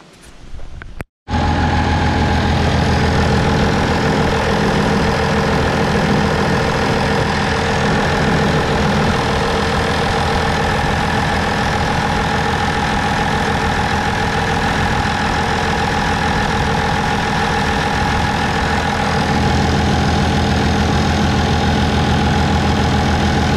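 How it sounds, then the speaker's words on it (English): An International Harvester 1086 tractor engine idles close by, a steady, even rumble that runs unbroken after a brief silent start, with no one talking. "This tractor sounds great, and it doesn't smoke."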